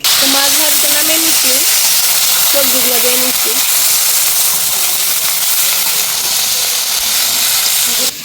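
Fish and vegetables fry in a pan, giving a loud, continuous sizzle and hiss, with a voice speaking briefly over it early on.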